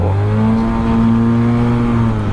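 A Yamaha TMAX 530 scooter engine, fitted with Malossi camshafts, revs at half throttle up close, a steady loud drone that climbs slightly and holds before easing off.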